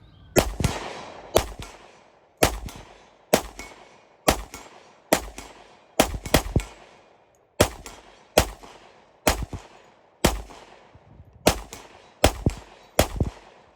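A Sig P320 XTEN Comp pistol fires at an outdoor range, about fifteen sharp, loud, evenly spaced shots in steady succession, each with a short ringing tail, and no talking.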